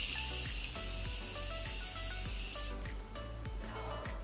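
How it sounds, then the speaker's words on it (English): A Morphe Continuous Setting Mist spray bottle sends a steady, bright, close hiss of fine mist across a face, holding for a few seconds before fading out. "I'm going to take the Morphe Continuous Setting Mist."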